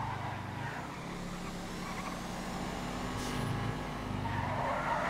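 Car tires skid and squeal as a car spins out under full steering lock in GTA FiveM, with a steady engine drone beneath the screech throughout.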